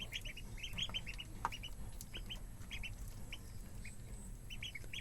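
Young ducks on a backyard farm quack and peep repeatedly in quick, overlapping bursts, small and fairly faint, over a low steady background rumble with no talking.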